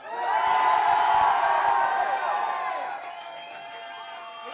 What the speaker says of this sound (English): you got to cheer louder